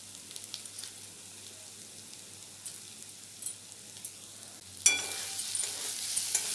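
Vegetables with crushed kasuri methi are stirred and roasted in a pan, with a soft, quiet sizzle and sparse light scrapes that turn louder and brighter near the end as the stirring picks up, with no talk.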